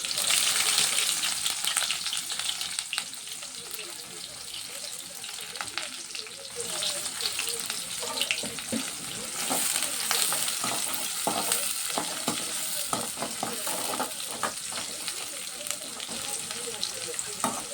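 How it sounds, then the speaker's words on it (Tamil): Finely chopped onions sauté in a pan after mustard seeds and fennel, a continuous crackling sizzle punctuated by frequent spatula stirs and scrapes, fairly close and steady. "வெங்காயம் நல்லா வதங்கணும்."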